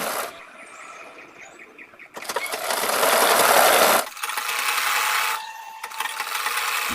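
An electric sewing machine stitches a seam on folded fabric pieces for a round-neck maxi dress, whirring in several loud bursts separated by short pauses.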